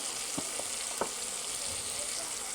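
Chopped onion, green chili and tomato with salt fry in a pan with a steady, bright sizzle and a few soft stirring scrapes close by.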